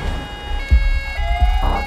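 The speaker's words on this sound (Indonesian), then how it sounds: "mendengar alarm toko yang menyala" A shop alarm sounds in a film scene, a steady electronic tone joined by a rising wail, with thumps and bursts of action noise underneath.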